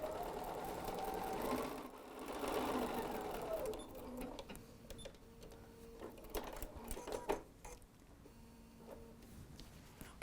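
A home sewing machine runs an eighth-inch seam along a fabric face mask, whirring continuously for several seconds, then continuing in shorter stop-start runs with small clicks, close up and alone.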